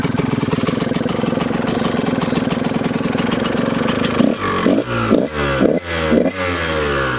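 A warmed-up 2000 KTM 125 EXC two-stroke engine idling with a rapid buzzing rattle, then blipped several times in sharp rising revs, loud and close with no voices.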